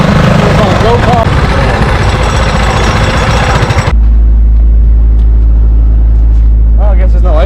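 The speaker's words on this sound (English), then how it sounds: "It's on a go-kart." A go-kart engine runs loudly on a city street in New York, its rough buzzing drone steady and close, with people talking over it; after a few seconds the engine note drops to a lower idle hum.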